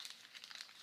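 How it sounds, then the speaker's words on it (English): A piece of paper is crumpled into a ball for a cardboard cannon, giving a brief burst of soft crinkling crackles up close, quiet and alone. "Take a piece of paper, crumple it up until it's just the right size for your cannon"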